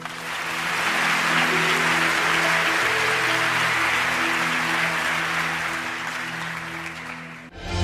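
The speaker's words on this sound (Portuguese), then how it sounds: "Dê um forte aplauso ao Senhor." A church congregation gives a strong round of applause, a steady roar of clapping under sustained musical tones, holding level before fading out and cutting off abruptly at the end.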